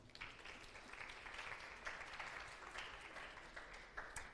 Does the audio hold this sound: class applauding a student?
yes